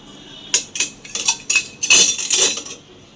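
Metal spoons clink and clatter as they are set one by one into a two-sided spoon holder, a string of close, bright chinks in quick bursts with a busier cluster near the end.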